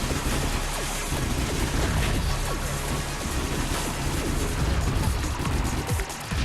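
Continuous rapid weapon fire against a barrier in Nano Assault Neo forms a loud, dense barrage of crackling blasts and impacts with no letup.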